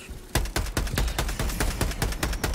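Rapid gunfire in the video game Helldivers 2, a loud burst of roughly a dozen evenly spaced shots in quick rhythm after a brief quiet start.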